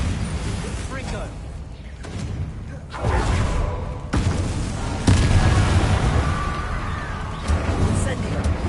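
Confringo explosive spell in the Hogwarts Legacy game, several booming blasts and thuds landing in a loose sequence over a rumbling bed of game noise, with voices speaking between impacts.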